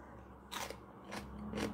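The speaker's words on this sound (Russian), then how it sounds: "Капуста хрустящая." Crunchy homemade sauerkraut fermented with beetroot bitten and chewed up close, with three crisp crunching bursts at a steady pace and no talk.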